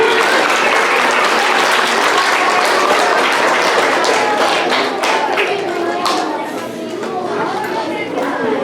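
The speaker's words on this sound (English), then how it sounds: "Let's give these boys and girls a big round of applause as they come on up on the stage." An audience applauds loudly and steadily as children come up onto a stage at a school event, with dense, continuous clapping filling the whole stretch and only a slight dip near the end.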